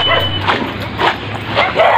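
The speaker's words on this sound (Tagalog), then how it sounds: "Ito yung aso" A dog gives a few quick, high yips and short barks close by, in brief bursts with small pauses between them.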